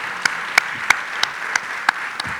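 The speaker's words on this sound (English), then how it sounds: "how about a round of applause for our panelists?" A handful of sparse, isolated claps from a conference audience applauding panelists, about seven distinct hand claps spaced roughly a third of a second apart, fairly faint and close.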